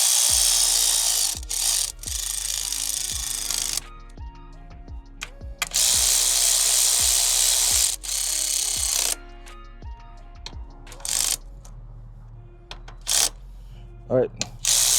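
Power tool tightening valve cover bolts on a 2008 Toyota Camry, heard as repeated loud whirring bursts separated by short clicks and pauses. A voice talks in between the bursts.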